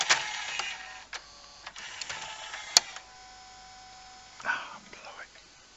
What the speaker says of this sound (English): let's do an eject on disc 5